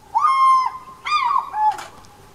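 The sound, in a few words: African fish eagle calling after catching a fish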